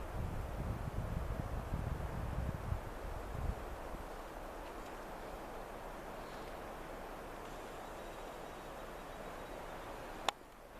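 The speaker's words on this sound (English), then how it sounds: "That whole row of foliage, man, just rippled underneath wind." Wind sweeps steadily through a row of foliage outdoors, a constant broad rustling hiss with a heavier gusty rumble at the start and one brief sharp click near the end.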